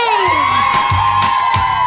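Shouting and whooping at a birthday celebration, with several loud voices yelling in bursts, layered with sustained high cries and rising calls close by.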